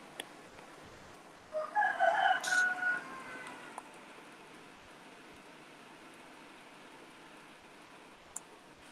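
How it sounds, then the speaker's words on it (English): A neighbor's rooster crows once in the distance during a quiet indoor moment, a single drawn-out cock-a-doodle-doo lasting about two seconds over faint background hiss. "I am sorry for my neighbor's rooster, if you can hear that."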